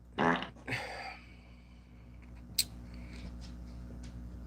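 A fart sound effect played by a livestream's sound operator: two short sputtering blasts close together near the start, then a faint tail and a small click against a quiet background hum.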